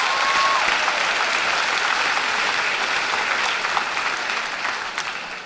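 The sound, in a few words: graduation audience applause for forensics team seniors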